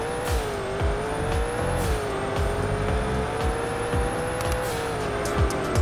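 A racing video game's fastest car drives with a steady engine drone whose revs rise and drop with gear shifts, accompanied by repeated synthetic tire and impact thumps. No one talks over it.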